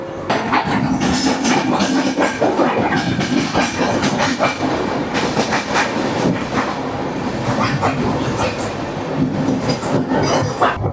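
The Mangala Lakshadweep Express passenger train runs on rails with a loud, continuous rumble and rhythmic clickety-clack of wheels over track joints, heard from close by.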